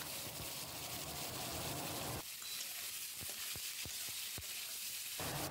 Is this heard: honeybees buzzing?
no